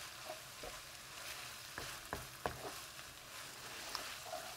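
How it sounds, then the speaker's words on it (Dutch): Ground meat for Indonesian pastel goreng sizzles quietly in a pan, a steady soft frying hiss broken by a few scraping stirs, close and faint, with no one talking. "Het gehakt is nu bruin en rul en is lekker aan het bakken"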